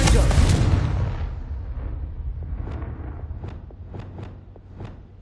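Confringo fire spell from Hogwarts Legacy erupts in a loud roaring blast at the start, then fades into crackling and a run of sharp thuds and pops, close and dense.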